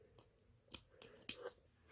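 A few sharp snips of scissors cutting yarn, quiet and close, spaced out with short pauses between cuts.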